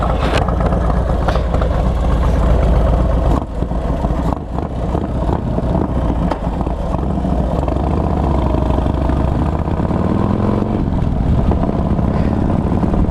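A Harley Dyna motorcycle with a 107 engine rumbles along the road, its deep throbbing exhaust loud and steady with slight throttle swells, close and constant throughout.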